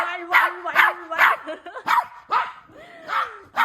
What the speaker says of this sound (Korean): 누가 이렇게 짖어?